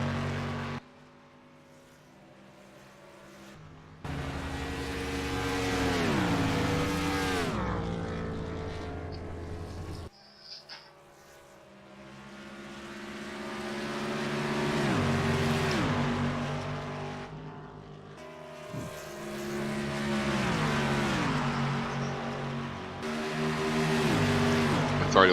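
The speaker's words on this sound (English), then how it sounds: "that 31 Wrangler Gene Chevrolet coming up on the back of the lap traffic" Chevrolet race cars, including a Wrangler-sponsored entry, lap an oval at an Indy 400 event, engines roaring past in repeated waves that rise to a loud pass and then drop in pitch as each pack fades, with brief lulls between passes.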